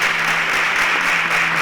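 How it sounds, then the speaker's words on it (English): Steady, dense applause from a studio audience on a Nigerian competition show, greeting an eliminated contestant named Michael, continuous and fairly loud throughout. "A round of applause for Michael."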